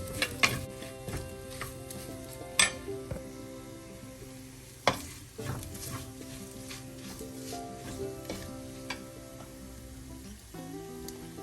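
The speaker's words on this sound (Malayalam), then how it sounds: "പച്ചമണം മാറുന്നത് വരെ ഒന്ന് വഴറ്റുക" Masala with Kashmiri chilli powder sautéing in a pan for Kora fish curry, a faint sizzle under scattered sharp clinks and scrapes of a spoon against the pan.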